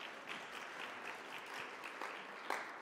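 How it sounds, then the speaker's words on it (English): Soft round of applause for the ILO Deputy Director General at a formal conference, light scattered clapping from a modest audience, quiet and somewhat distant, a few sharper individual claps standing out. "Let's give him a round of applause, please."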